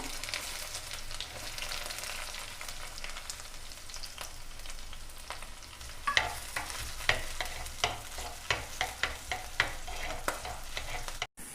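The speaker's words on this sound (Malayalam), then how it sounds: "കടുകൊന്ന് പൊട്ടി വരുമ്പോൾ നമുക്കതിലേക്ക് ഇഞ്ചിയും വെളുത്തുള്ളിയും പച്ചമുളകും ഇട്ട് കൊടുക്കാം." Ginger, garlic and green chillies fry with mustard seeds in oil for a Kerala-style avoli fish curry, a constant close sizzle that later gives way to a run of sharp, regular crackles and pops.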